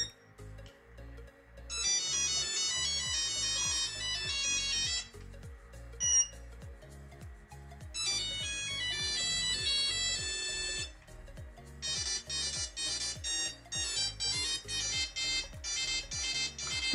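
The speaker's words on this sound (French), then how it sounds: "Ça, tout le monde l'avait comme sonnerie." A bright, beeping melodic ringtone from a 1990s mobile phone repeats in bursts of rapid synthetic notes. The bursts are separated by short pauses, and a low rhythmic pulse runs underneath.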